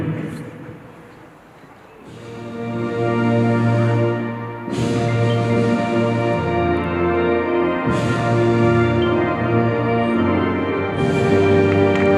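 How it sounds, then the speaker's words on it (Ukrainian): The national anthem of Ukraine plays loudly through a football stadium at a Dynamo Kyiv match, sustained chords and voices swelling in long phrases that fill the space. "Звучить державний гімн України."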